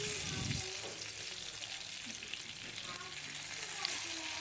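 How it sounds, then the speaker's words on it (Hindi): Fish fillets frying skin side up in a shallow layer of oil give a steady, close, moderately loud sizzle with small crackles, continuous throughout with no talking. "मछली ऑयल में डालते हुए आपने उसको स्किन वाली साइड ऊपर रखनी है"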